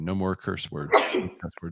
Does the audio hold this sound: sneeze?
yes